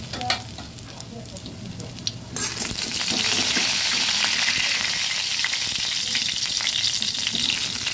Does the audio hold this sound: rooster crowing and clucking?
no